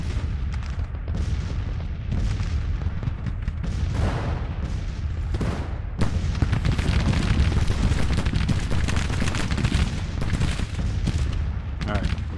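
Civil War artillery in Grand Tactician: The Civil War, a dense, continuous battle din of booming guns and crackling musket fire, loud and unbroken throughout, with a voice heard in places.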